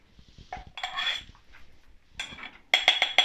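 Chopped garlic goes into a glass jar with a few clinks and scrapes of a metal utensil against glass, quiet and close, with brief pauses between bursts.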